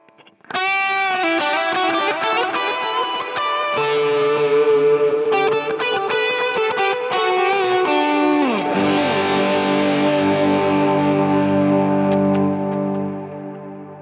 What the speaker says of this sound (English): with this worship verb, I can turn on the dotted eighth and my overdrives again